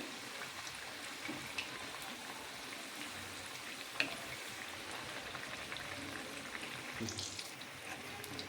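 Battered rohu fish frying in oil over a medium gas flame, a soft, steady bubbling hiss throughout with one small clink, faint and alone.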